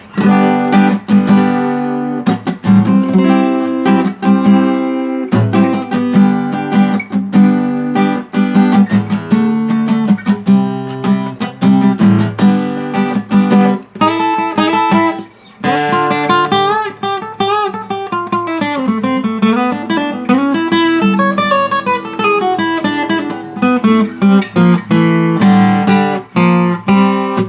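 A Morris MD510 Japanese acoustic guitar played steadily for the whole stretch, strummed chords and picked notes ringing bright and close, with no voices.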